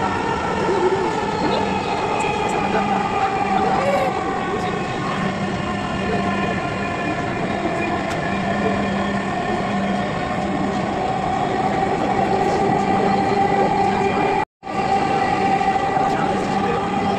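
Dhaka metro train on the run toward Uttara, a steady loud rumble with sustained tonal whine and hum from inside the carriage, continuous throughout with one brief dropout.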